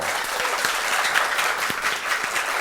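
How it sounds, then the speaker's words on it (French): Students and spectators at a school quiz match between two lycées applaud steadily, a dense wash of hand-clapping that holds an even level from start to finish. "Allez, tout le monde, on applaudit très fort."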